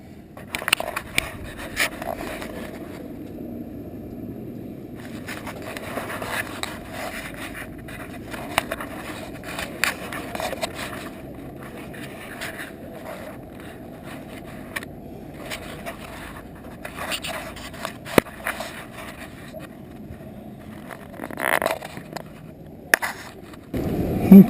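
Whirlybird roof turbines spin on a corrugated metal roof, heard from inside the attic as a faint, continuous rolling rattle with irregular scraping clicks and knocks throughout.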